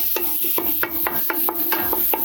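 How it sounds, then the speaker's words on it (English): Italian sausage sizzling in a soup pot while a wooden spoon breaks up the chunks, with a steady run of sharp scraping strokes about every quarter second over a continuous frying hiss. "I'm just gonna use this wooden spoon to break up any of like the large chunks"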